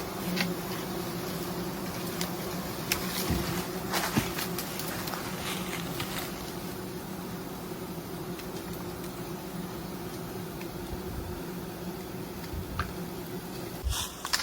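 Bees swarm around a wild mountain honeycomb, a constant dense buzzing hum close by with occasional louder passes and rustling knocks, no speech over it.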